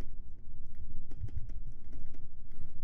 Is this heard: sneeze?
no